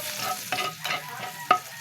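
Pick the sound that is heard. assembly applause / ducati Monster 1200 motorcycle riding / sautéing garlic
sautéing garlic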